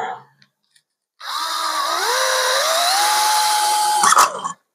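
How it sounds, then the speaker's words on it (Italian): Cordless drill driver boring a small hole in household materials for a homemade water burner, a close, loud whine that rises in pitch and holds steady, ending with a brief rattle. "abbiamo il nostro avvitatore, facciamo i 2 fori"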